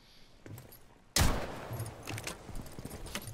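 A sudden loud shot cracks out in a competitive shooter video game, followed by a scatter of quieter shots and clatter trailing off after a faint lead-in.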